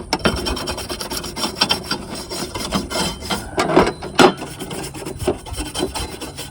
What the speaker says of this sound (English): what I'm sharpening is this edge right here, just from this top side where there's this angle